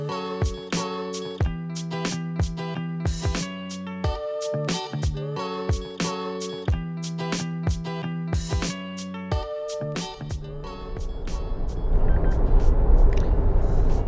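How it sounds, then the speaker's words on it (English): Suzuki Jimny chiming as it passes 80 km/h on a highway, a run of evenly spaced, sharp, tonal beeps repeating close by, then fading into rising road and wind roar. "it beeps every once in a while to remind me that I'm crossing 80"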